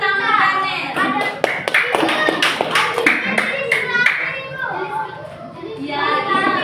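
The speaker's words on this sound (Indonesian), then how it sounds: "Tepuk tangan" Applause from children in a classroom during a civics lesson, a burst of quick hand claps that rises and fades over several seconds, with a teacher and kids talking around it.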